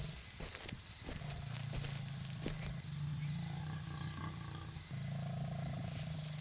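A lion gives deep, rumbling roars in a wild savanna setting, moderately close, over a constant low background wash.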